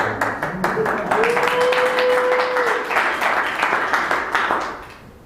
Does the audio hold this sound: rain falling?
no